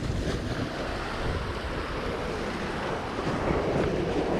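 Heavy ocean surf crashes and churns against a rocky point, a loud continuous roar of broken water mixed with gusty wind buffeting the microphone, with no talk.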